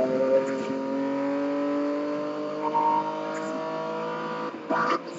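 A video game drag race car engine from Need for Speed drones steadily near and fairly loud, holding a high whine with a brief gear-change dip near the end.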